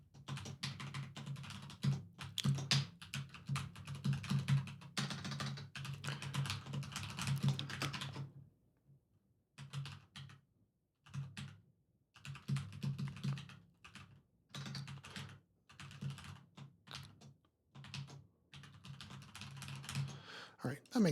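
Bursts of clattering computer keyboard typing while code is written, quick irregular keystrokes in clusters with brief pauses, fairly close and quiet.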